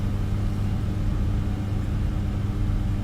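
Steady, dense time-stretched white noise processed in 32 frequency regions, with a heavy low rumble holding without a break, sounding like a blurred, smeared wash of static.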